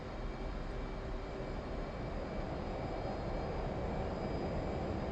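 An F/A-18 Hornet's jet engines in the DCS World flight simulator, spooling up on an aircraft carrier deck, giving a steady, broad roar with a faint whine that holds level and quiet throughout.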